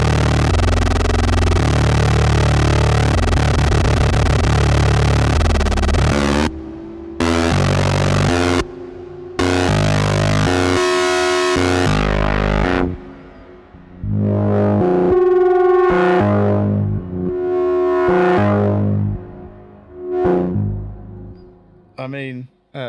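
A Pittsburgh Modular Lifeforms SV-1 Blackbox synthesizer samples an external LFO, giving loud, buzzy, distorted tones that pulse and stutter with abrupt cutoffs, then thin into rising and falling swells before fading out.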